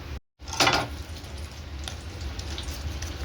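A knob of Amul butter hitting a hot pan, a brief crackling burst followed by a soft, steady sizzle as it melts, with no one talking.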